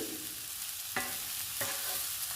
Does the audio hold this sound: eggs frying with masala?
yes